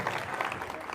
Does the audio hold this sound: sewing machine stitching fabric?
no